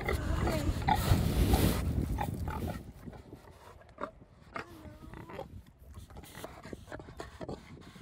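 A big black pig grunting and snuffling on a home driveway, picked up by a security camera, with a louder rustling opening followed by scattered close grunts.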